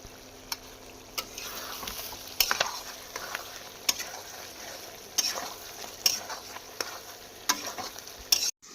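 Bay leaf, dry chilli and cumin tempering crackling in hot oil in a wok, steady soft sizzle with scattered sharp pops and ticks throughout, close and alone.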